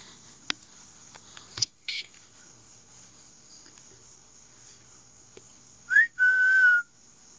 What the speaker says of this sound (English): I think I just heard a whistle.